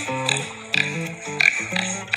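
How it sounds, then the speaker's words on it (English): A cartoonish pig oinks in a short series of nasal grunts in a children's animal-sounds setting, close and clear with a faint ping. "It's a pig."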